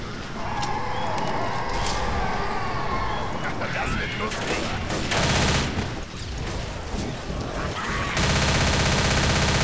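Rapid bursts of automatic gunfire crackle almost continuously in the Left 4 Dead video game, a dense, loud barrage that swells near the end, with players talking over it.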